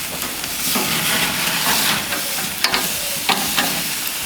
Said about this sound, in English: Those flames are coming up because some of the fat's rendering off, hitting the flavorizer bars, and just vaporizing into deliciousness.